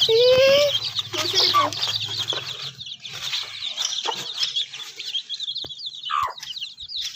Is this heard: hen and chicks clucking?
yes